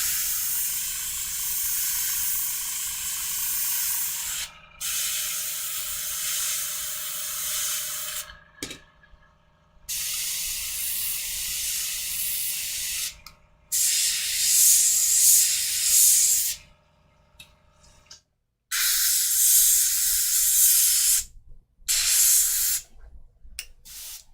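An airbrush sprays paint while weathering a Gaslands model car, a close steady hiss coming in several bursts of a few seconds each, separated by short silences.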